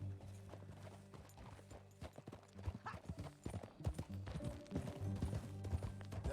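Horse hooves clopping in an uneven, rolling rhythm as riders move off together on a ranch, close and clear over a low music bed, with a brief whinny.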